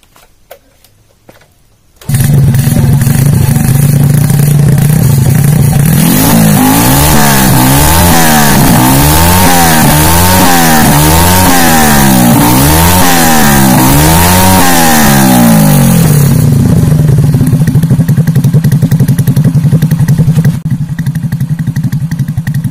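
A racing-built C-series motorcycle engine with a Juve piston, BRT T1 camshaft and double ball bearings fires up after a brief quiet, then roars loud and close through repeated sharp throttle blips before settling back toward a high, rough idle.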